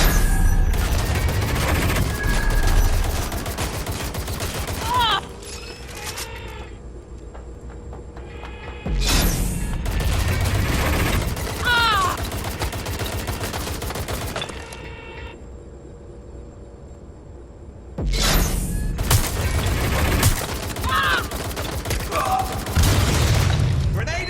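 Bursts of automatic gunfire and booms in a Watch Dogs Legion combat firefight, loud dense volleys in three or four stretches separated by quieter pauses, with voices talking over the action.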